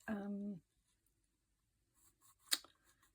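A quick pencil sketch of a flower goes onto a dried mixed-media craft page: a brief voice at the start, a pause, then a short burst of faint scratchy strokes.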